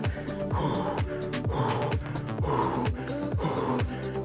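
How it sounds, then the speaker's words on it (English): Heavy, rhythmic breathing comes from a rider during a spin bike workout, with quick gasping breaths repeating about twice per second, close and clear. "you can hear how heavily I'm breathing"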